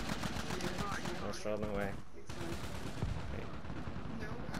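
Gunfire from the Red Dead Redemption video game, dense, rapid shots filling the clip, with people talking over it throughout.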